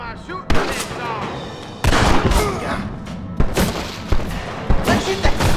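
Gunfire in a Red Dead Redemption shootout: loud, repeated booming shots in irregular bursts, close and heavy, mixed with shouting voices throughout.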